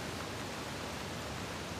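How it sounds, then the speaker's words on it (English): A waterfall rushes in the Uncharted: The Lost Legacy game, a dense, steady roar of falling water with no breaks. "Another waterfall."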